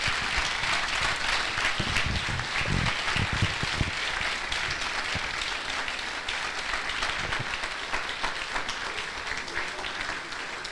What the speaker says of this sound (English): please join me in giving a standing ovation to Professor Ayotunde Ajaiyeoba